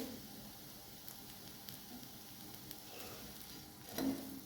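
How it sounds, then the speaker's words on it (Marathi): Soft, steady sizzle of a panji dosa roasting on a tawa over a very low gas flame, faint and even, with a small scrape or tap near the end. "दोन्हीकडून छानपैकी असं डोसाला शेकून घ्यायचं आहे. एकदम बारीक गॅसवरच शेकायचं आहे."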